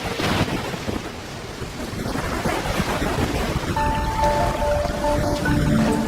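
Stormy ocean on an icy alien moon, with roaring wind and surging waves over a steady, dense rumble that holds throughout, later joined by faint high tonal streaks.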